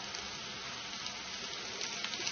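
Onions and ground spice masala fry in a pan, giving a steady, dense sizzle like light rain that holds at an even level throughout, with no talking.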